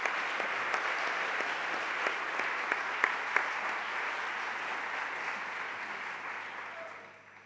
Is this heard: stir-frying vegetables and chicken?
no